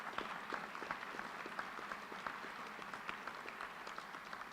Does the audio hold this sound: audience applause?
yes